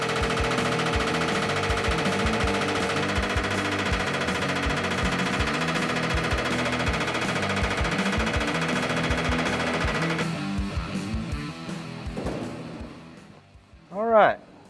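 Sheet metal panel being stretched with a power metal shaping tool: a loud, steady hammering rattle runs for about ten seconds, then turns into scattered taps and fades, while people talk nearby.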